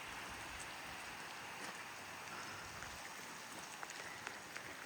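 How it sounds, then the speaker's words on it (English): Rain falling steadily outdoors on a farm, a soft continuous hiss with scattered drop ticks, heard alone with no voices. "Look at that rain."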